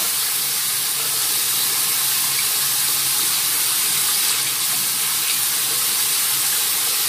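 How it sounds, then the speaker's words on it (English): Running water hissing steadily from a tap while something is washed with soap, a constant close spray with no talking. "So let's go ahead and wash this thing. You want to get soap in there."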